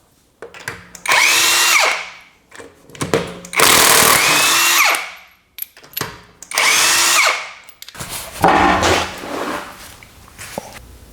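A power tool with a 21mm socket loosens the rear wheel lug nuts on a 2013-2020 Nissan Pathfinder. It gives four loud, close whirring bursts of about two seconds each, with short gaps of quiet handling noise between them.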